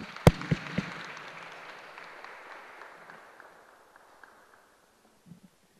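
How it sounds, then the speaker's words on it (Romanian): Applause at a panel event on the role of activists in promoting equality starts with a few loud, close claps, then thins into a faint, scattered patter that dies away, with one last soft clap near the end. "haideți întâi să-i aplaudăm"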